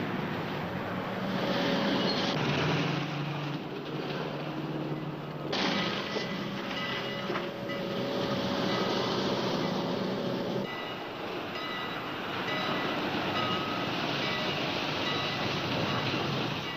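A train passes through a town street crossing, producing a loud, steady rumbling roar of rolling wagons that fills the whole stretch without a break, with no voices.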